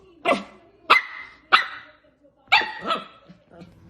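A 12-week-old standard Australian Shepherd puppy barks in a run of sharp, close yaps, four or five quick barks spaced about half a second apart with short pauses between.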